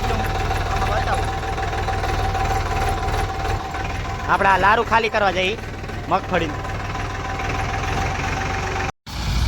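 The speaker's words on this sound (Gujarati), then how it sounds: "ઓલા ટ્રેક્ટરનો તમને વિડીયો આમાં બતાવું." Tractor engine idling steadily in a groundnut field, a low continuous throb near the microphone, with someone talking briefly over it midway.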